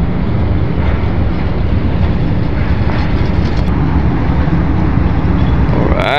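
Deep, constant rumble of a large ship's engine tugging a barge at sea near Masbate, mixed with loud, gusty wind buffeting the microphone throughout.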